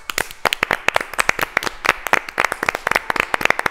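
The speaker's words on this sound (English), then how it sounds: "Give yourselves a round of applause." A small group claps at the end of a comedy sketch, sharp, distinct hand claps in an uneven, fairly quick rhythm, close and clear with no talking.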